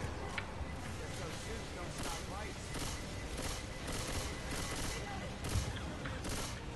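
Gunfire bursts in the zombie shooter Left 4 Dead 2, a run of sharp rattling shots repeating at irregular intervals under someone talking, moderately loud and mixed with game noise.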